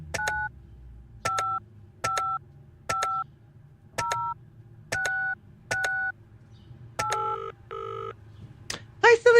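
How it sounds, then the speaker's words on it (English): A telephone in a video game dials out: eight evenly spaced two-tone beeps, each about half a second, then a pair of ringback tones and a brief burst of clicks at the end, over a faint low hum. "Let's see now if I can call anybody to get any further information or leave any voicemails."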